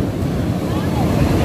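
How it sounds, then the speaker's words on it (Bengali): Ocean waves break on the shore at Puri beach, a steady loud wash mixed with wind noise while people talk nearby. "ওই যে ঢেউগুলো আসছে দেখো কোথা থেকে, পাড়ে এসে কিন্তু ঢেউগুলো ভাঙে"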